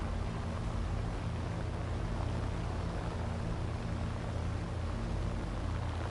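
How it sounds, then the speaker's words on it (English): A Lancaster bomber engine in the War Thunder video game gives a steady, loud, unbroken droning roar with a deep rumbling throb throughout, and no voices. "this Lancaster engine sucks"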